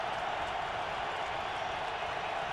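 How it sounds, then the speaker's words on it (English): A packed stadium crowd at a Giants vs Patriots NFL game roars in a steady, loud, continuous wash of cheering with no breaks. "This is the loudest this crowd has been all day."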